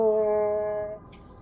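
A voice mimics a race car engine passing by, sustaining a droning tone that gradually fades and sinks before stopping, heard close up with no other sounds.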